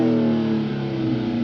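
A 2023 Chrysler 300C SRT with a 6.4-litre Hemi V8 and blacked-out exhaust tips revs loudly and steadily from outside the car, a deep continuous exhaust drone with no one talking.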